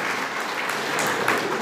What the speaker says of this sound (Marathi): जे टाकतायत ना त्यांच्यासाठी खरं टाळ्या वाजवा एकदा